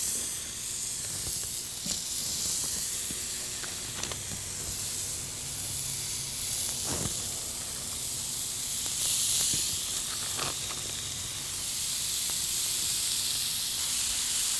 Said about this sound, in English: Going to be cooking these burgers on the Mojo griddle today.